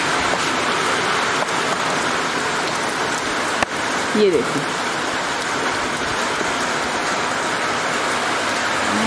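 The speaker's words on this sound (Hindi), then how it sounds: "क्या तेज बारिश हो गई।" Steady, heavy rain pours down in a dense wash of noise, with a brief voice speaking partway through.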